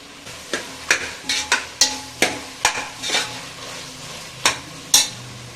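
A spoon scrapes and clacks against a pan in a steady stirring rhythm as tomatoes fry with a soft background sizzle.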